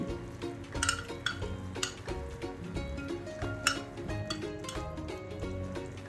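A spoon scrapes and clinks against a pan while ghee and condensed milk are stirred for sondesh, soft rhythmic clatter with faint sizzling close by.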